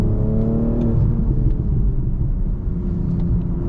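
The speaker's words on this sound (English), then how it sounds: "you can hear the burbles. under that braking acceleration" 2023 BMW M240i exhaust rumbles steadily from inside the car while driving, with a low engine drone that eases off toward the end, heard close and alone.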